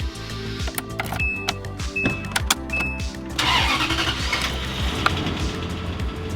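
A Toyota Century's engine is started from inside the car. Chimes and clicks come first, then the starter cranks and the engine catches and settles into a low, quiet idle close by.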